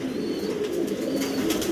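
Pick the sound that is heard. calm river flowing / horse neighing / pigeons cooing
pigeons cooing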